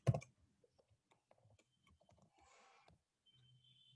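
Light, sparse keystrokes on a computer keyboard while coding, a few soft isolated clicks spread across a quiet room with no one speaking.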